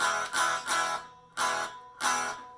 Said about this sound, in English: what you're hearing is those springs vibrating